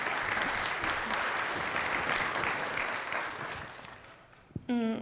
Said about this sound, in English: So a big applause for all of you that are attending this concert.